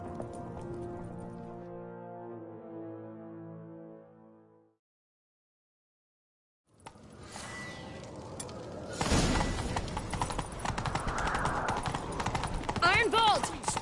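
Horses galloping in pursuit in the video game Witcher 3, a rapid clip-clop of hooves that starts after a silent gap and grows louder and busier, under voices and game effects.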